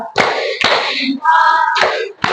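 A class performs a thumb-clap chant: a few sharp, rhythmic group claps alternate with children's voices calling out together in a short, lively pattern.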